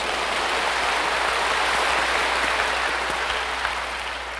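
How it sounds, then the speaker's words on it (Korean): A church congregation claps together during a sermon, a dense, steady wash of applause that holds evenly and fades slightly at the end. "예수님 십자가 바라보고 박수를 한번 치십시오"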